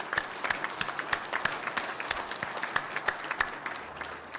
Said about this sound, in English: join me with a round of applause again for the state of Michigan